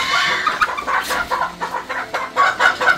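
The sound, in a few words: chickens clucking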